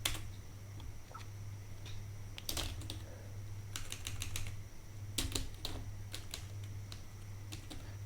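Code being typed on a computer keyboard: quick irregular bursts of clicking keystrokes with short pauses between runs, close and fairly quiet over a low steady hum.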